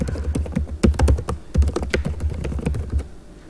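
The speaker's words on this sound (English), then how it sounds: "before you can finish typing your password" Someone types a password into a school email sign-in page on a computer keyboard, producing rapid, irregular close-up key clicks and thuds with brief pauses between bursts.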